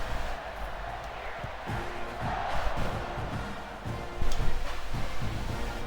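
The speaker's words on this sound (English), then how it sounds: "this crowd is buzzing after that last score" Stadium crowd in EA Sports College Football 26 buzzing and murmuring after a score, a steady distant roar that swells briefly near the end, with commentary talk over it.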